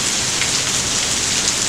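Heavy rain from the far outer bands of Hurricane Delta in Louisiana, a steady dense hiss of downpour on surfaces, loud and unbroken throughout with no voices.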